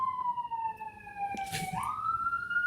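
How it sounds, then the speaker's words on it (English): Wailing siren from a small-town volunteer fire department, faint and distant, pitch gliding down and then rising again over a short stretch with some background noise. "Do you hear the sirens?"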